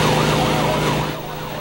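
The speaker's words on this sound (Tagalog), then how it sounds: "Ang nag-iisa at makabagong fire truck na ito, parte raw ng paghahanda para sa parating na tag-init." Wailing siren of a new Bureau of Fire Protection fire truck, loud and close, with rising and falling tones sustained throughout, fading slightly near the end.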